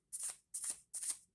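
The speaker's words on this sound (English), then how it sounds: "They are very stiff to shuffle" Stiff oracle cards shuffled by hand in three quick bursts, each a crisp papery riffle rising and falling, close and quiet with short silences between.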